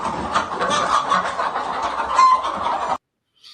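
A group of ex-battery hens clucks and murmurs continuously nearby, overlapping soft calls for about three seconds before stopping, then one faint cluck after a short silence.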